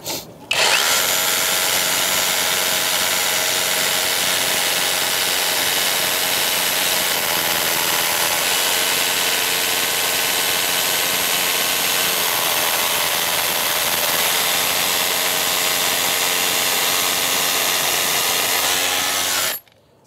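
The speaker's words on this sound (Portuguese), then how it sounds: "Aí aqui eu vou fazer mais um furo para vocês verem" A power drill boring holes through pipe on a construction job runs loud and steady for nearly the whole stretch, starting and stopping abruptly, with no talk over it.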